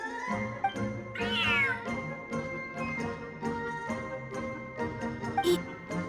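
A cat in the Genshin Impact video game meows several times over a steady game music bed, with one drawn-out, rising yowl standing out near the start, the calls close and clear.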